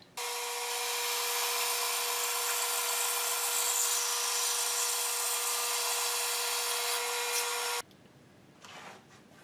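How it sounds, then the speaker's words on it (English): A power saw slices the first piece off a wooden board to square it for segmented bowl work, one loud steady whining cut of about eight seconds that stops abruptly, leaving faint bench noises. "we'll cut off the first piece of wood to square off the board"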